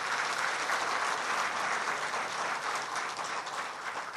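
Sustained applause from an award ceremony audience, steady and dense throughout, moderately distant with no talk over it.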